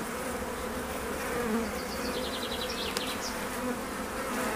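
Honey bees buzz around an open hive as frames are inspected, a dense, continuous droning hum filling the space close by, with individual bees whining past.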